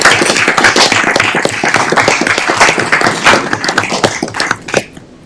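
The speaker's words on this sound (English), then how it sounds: "one more round of applause for our brand new 7th Ward Alderman" At a city council meeting, a room applauds the new 7th Ward Alderman with loud, close, vigorous clapping whose individual hand strikes stand out before it tapers off at the end.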